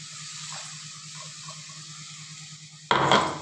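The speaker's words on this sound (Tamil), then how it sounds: "இப்போ அரைச்சி வச்சுருக்க தக்காளி விடுதை ஊற்றிக்கலாம்" Ground tomato paste poured into onions already sautéed with ginger-garlic paste in a pan, for an egg curry: a low steady hum gives way to a sudden loud burst of sizzling that stays strong, close and alone.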